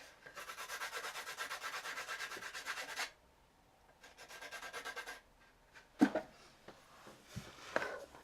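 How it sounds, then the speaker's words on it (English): A dark sepia colored pencil is rubbed against sandpaper to sharpen it, producing close, rhythmic scratchy strokes in two bursts separated by a pause, followed by a few soft clicks and taps. "which I'm going to sharpen on the sandpaper again"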